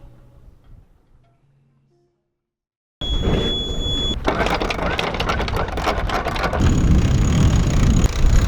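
A sailboat's engine runs after leaving an anchorage off Martinique, starting abruptly after near silence and holding a loud, steady broadband drone with a tonal whine that grows slightly louder toward the end.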